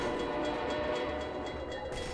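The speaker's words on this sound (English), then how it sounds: "Here comes the train." A train rumbles in steadily in the Half-Life 2 video game, a dense continuous roar and clatter holding at a constant loud level throughout, with no voices.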